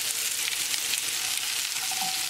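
Onion frying in a pan with squash, a steady broadband sizzle throughout, moderately loud and close, with a brief faint tone near the end and no talking.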